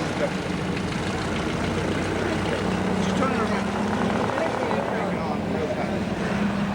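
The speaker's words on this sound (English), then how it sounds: "Let's go on an airboat ride. One of those. Big Chevy engine." An airboat with a big Chevy engine idles in the Everglades, a steady low rumbling drone with a faint propeller hum, while people talk over it nearby.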